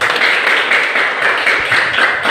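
A class of students claps hands together in a dense, continuous burst of applause, loud and close, with no talking over it.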